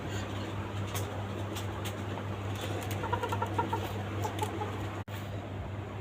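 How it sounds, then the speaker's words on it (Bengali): Red rooster chicks about two months old on a chicken farm, clucking softly among other fowl under a steady low farm hum, a continuous busy chorus at moderate distance without talk. "আর আপনার লাল মোরগের বাচ্চা দেখাচ্ছি"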